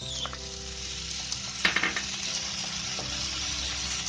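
Grated cauliflower dropped into a hot pan for poha, a steady sizzle with a brief clatter of tipping in partway through, then continuous frying hiss.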